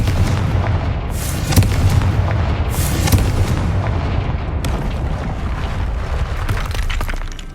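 A Confringo fire spell in the Hogwarts Legacy video game bursts in loud booming explosions, with sharp blasts near the start and a rumbling, crackling tail.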